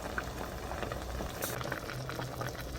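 Trout simmers over high heat in a seasoning liquid with onion, scallion, chili and cooking wine, making a steady close bubbling boil with no voices.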